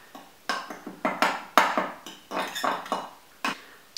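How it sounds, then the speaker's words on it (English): A metal spoon clinks repeatedly against a pan while stirring stock made from a cube and boiling water, a dozen light, irregular taps close by with no voices. "Give that a stir before we add that."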